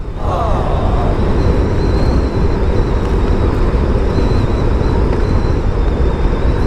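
A motorcycle cruises along a road in Santa Cruz, Davao del Sur, its engine drone buried under heavy, constant wind rush buffeting the microphone, loud and continuous throughout with no voices.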